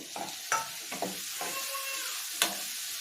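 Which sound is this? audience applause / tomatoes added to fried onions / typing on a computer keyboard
tomatoes added to fried onions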